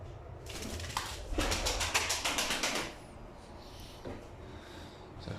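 Mardin pigeon squabs in a newly set-up coop, giving a quick run of rhythmic fluttering and cooing bursts near the middle, then fading to a quiet room with faint soft sounds.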